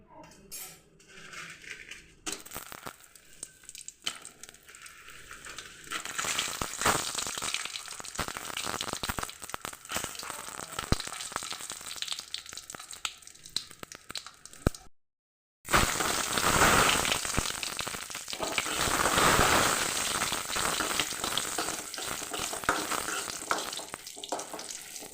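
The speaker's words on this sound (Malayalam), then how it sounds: "ഈ പപ്പടം കാച്ചി വെളിച്ചെണ്ണയിൽ തന്നെ നമുക്ക് മുളക് വറുത്തെടുക്കാം." Dried chillies frying in coconut oil left from frying pappadam, a dense crackling sizzle that builds and continues close and loud, broken by a short silent gap midway, with no voices.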